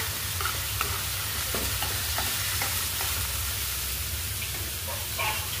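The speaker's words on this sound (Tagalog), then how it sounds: "Tapos shake lang guys, haluin lang guys ng mabuti." Chicken liver frying in a pan, with a steady loud sizzle throughout and repeated scraping and tossing sounds from stirring and shaking, nearby and without any talk.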